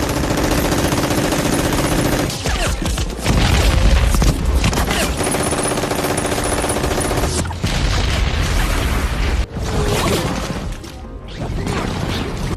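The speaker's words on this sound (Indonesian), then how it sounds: "pasukan Jerman telah bersiap menyambut kedatangan pasukan Amerika dengan berondongan peluru" Machine gun fire from a war film, dense sustained bursts of gunfire with crashes and booms, loud and continuous with short breaks between volleys.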